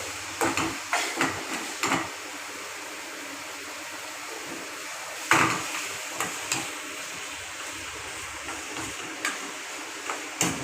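Beef pieces stirred into masala in a pan for a beef gravy: a steady sizzling hiss runs throughout, broken by repeated scraping taps of the spoon against the pan, close up and without talk.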